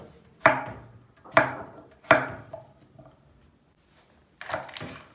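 Potatoes are cut into large chunks on a board with three sharp, evenly spaced knife chops close up, followed by a pause and a softer scraping knock.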